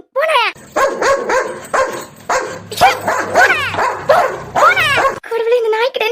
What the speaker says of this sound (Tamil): கடவுளே, இந்த நாய்க்கிட்ட இருந்து எப்படி இனிமே தப்பிக்க போறோம்?